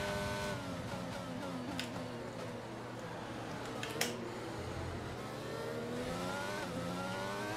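Formula 1 race car engine in the F1 2022 video game, with the car slightly damaged underneath, droning steadily with rising and falling pitch sweeps as it accelerates, fairly quiet and continuous.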